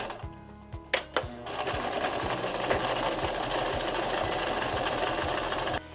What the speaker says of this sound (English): I'm gonna try and sew with this foot along the edge of my pinup fabric.